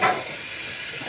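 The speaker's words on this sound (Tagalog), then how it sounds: "Rice cooker." A rice cooker venting steam, a steady close hiss that swells briefly at the start and then settles into an even, continuous rush.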